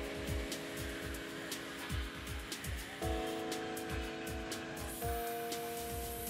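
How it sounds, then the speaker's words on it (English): A Koike Versagraph Extreme CNC machine with a 3D bevel head cutting a hole, a steady mechanical whine with shifting sustained tones over a rapid repeating pulsing rhythm, moderately loud and without talking. "The machine cuts the hole first in one pass, and then multiple passes are done on the edge to make the K bevel cut."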